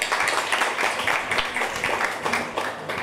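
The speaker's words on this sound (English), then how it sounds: "A round of applause" Audience applause for a guest being called on stage at an exhibition event, a steady wash of clapping that carries on for about three seconds at moderate loudness.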